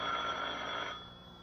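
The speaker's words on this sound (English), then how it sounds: "So will that phone ever stop ringing so we can get on with this?" A telephone bell rings in a drama scene, a bright steady tone that sounds loudly for about a second and then fades out, with no voices over it.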